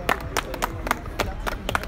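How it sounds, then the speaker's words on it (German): A small group claps hands in unison during an exercise session, sharp evenly spaced claps roughly every quarter second, close and clear against a low background murmur. "Und wieder klatschen."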